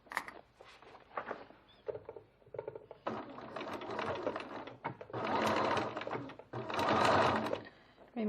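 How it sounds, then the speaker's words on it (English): A sewing machine stitches seams on a bowler bag in short stop-start bursts, the motor whirring in several separate runs with pauses between them, growing louder and longer toward the end. "you're only stitching from there to there, stopping, stitching from there to there"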